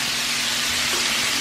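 Bacon-wrapped hot dogs frying on a street-style griddle, a steady close sizzle and hiss without breaks or voices.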